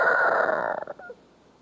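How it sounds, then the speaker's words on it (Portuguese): A rooster gives a single crow, loud and close, a strained, drawn-out call lasting about a second that breaks up and drops off at the end, followed by near silence. "Antes que o galo cante, 3 vezes."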